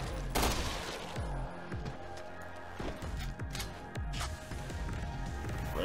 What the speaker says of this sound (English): I made the right choice going with this automatic gun.